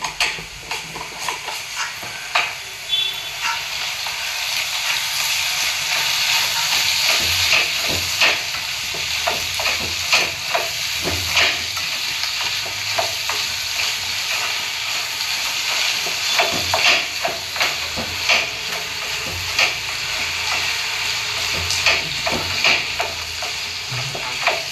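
Turmeric stirred into a frying pumpkin masala curry in a home kitchen pan, a steady close sizzle and hiss with repeated scraping stirs throughout.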